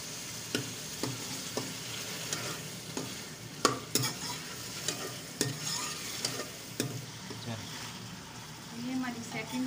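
Chicken browning in a pan for chicken achari, a low continuous frying hiss with frequent stirring scrapes and taps, fairly quiet and even throughout.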